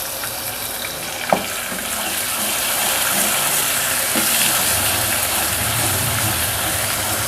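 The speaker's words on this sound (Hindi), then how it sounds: "चंद सेकंड लहसुन अदरक को भूनने के बाद" Garlic ginger paste fries with golden onions in a pan, giving a loud, steady sizzle with a sharp hiss early on. It stays dense and constant throughout, with faint background noise.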